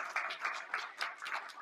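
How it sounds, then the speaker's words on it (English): Audience applause in a lecture hall after a guest speaker on environmental justice is introduced, a steady patter of many hands at moderate distance, fairly quiet, with no talking over it. "Don't applaud yet."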